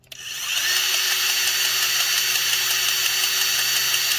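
A grease gun, run empty or after losing its prime while servicing riding mower wheels, starts up and whirs in a steady, close mechanical drone without change, with no one talking.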